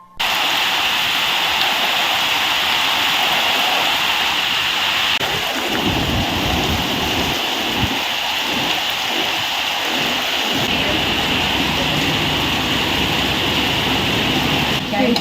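Heavy tropical downpour during a thunderstorm at an outdoor shed gathering, a dense steady roar of rain on surfaces with deep rumbling thunder rolling through the middle, continuous and loud throughout.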